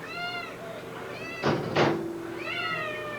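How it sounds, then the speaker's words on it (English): Cats at an animal shelter meow close by, one long meow at the start and another at the end, separated by a pair of dull knocks. "stray cats"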